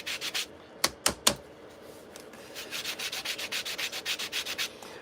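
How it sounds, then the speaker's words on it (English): Sandpaper rubs on a paper model part, starting with a few quick strokes, then a couple of sharp separate swipes, then a steady run of brisk, evenly spaced back-and-forth scrapes up close. "now I've sanded that a lot"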